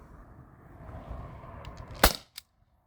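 Modded T4E HDP50 CO2 pistol fires one sharp, loud crack after a low rustle of handling, followed by a fainter short click a moment later.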